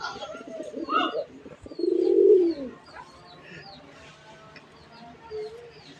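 A deshi red Bombay pigeon coos inside a cage, giving a few deep rolling coos up close, with quieter bird chirps and faint background sounds between them.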